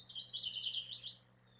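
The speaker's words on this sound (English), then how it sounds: "I think the birds are louder than you guys are today." A brief burst of high, rapid bird chirps, faint and a little distant, fading out after about a second.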